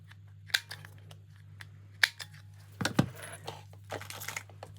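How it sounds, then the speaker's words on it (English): A corner rounder punch clips paper corners in a few sharp, close snips spaced a second or more apart, with light paper rustling and handling between them over a low steady hum. "I'm going from a corner rounder this time. And just cut those corners."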